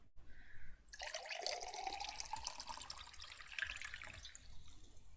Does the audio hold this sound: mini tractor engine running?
no